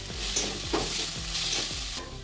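Cumin and ground cumin sizzle in hot oil in a kadhai for a restaurant-style mushroom masala, a loud, close, continuous hiss with a few sharper crackles and spatters.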